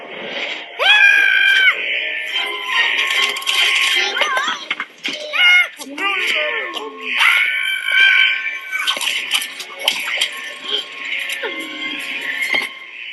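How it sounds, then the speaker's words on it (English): A person screams in fright at a spider, with repeated shrill, drawn-out cries and yelps over several seconds, loud and close, mixed with bleat-like vocal sounds. "You can tell because he screamed."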